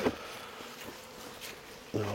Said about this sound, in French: il y a quelques abeilles dans le nourrisseur